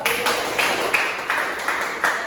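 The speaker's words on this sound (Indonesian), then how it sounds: "Tepuk tangan dong." Children clap their hands in unison in a classroom, a steady train of sharp claps spaced roughly a third of a second apart, close and moderately loud.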